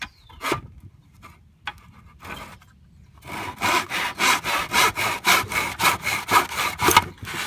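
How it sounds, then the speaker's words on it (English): Hand saw cutting wood in a cheap miter box: a few scattered scrapes and knocks, then a steady run of rhythmic back-and-forth sawing strokes, close and fairly loud, with no voices. "These little cheap miter boxes come in handy."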